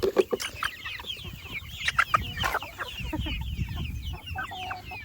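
Chickens cluck and squawk close by, a busy overlapping chatter of several meat birds with scratchy ground noise beneath.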